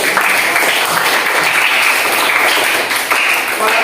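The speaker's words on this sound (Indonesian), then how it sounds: "Tepuk tangan dulu." Classroom applause from students during a teacher's performance assessment, a steady, dense patter of many hands clapping close by for several seconds with no talk over it.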